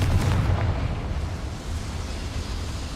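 A Confringo spell explosion in Hogwarts Legacy, set in goblin mines: a deep, rumbling blast that rolls out and lingers as a low roar, loud and heavy.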